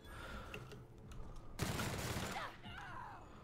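Gunfire in The Outer Worlds during a bounty-hunting mission: a dense burst of shots from about 1.6 seconds to 2.5 seconds, loud and close, with quieter game ambience before and after.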